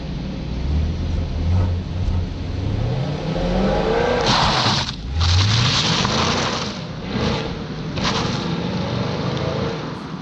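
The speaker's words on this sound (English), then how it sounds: "But here is that acceleration test, a quick view from outside of the Camaro." A 2020 Chevrolet Camaro SS accelerates hard on a wet road, heard from outside as a loud engine roar that climbs in pitch through rising gear pulls, with brief drops at the shifts.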